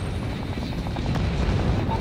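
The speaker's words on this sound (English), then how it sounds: "Friendly stealth chopper." A friendly stealth helicopter in the mobile shooter game Call of Duty Mobile, a steady low rotor rumble droning throughout with faint thuds of distant gunfire mixed in.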